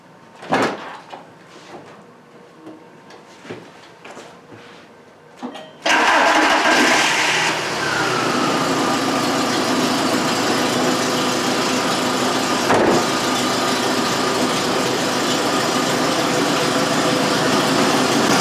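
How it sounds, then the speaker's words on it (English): An MK4 VW Beetle engine with a weak fuel pump cranks and catches after a few quiet clicks and clunks, then settles into a loud, steady idle that runs on continuously. "we're going to start the engine and see if it goes up"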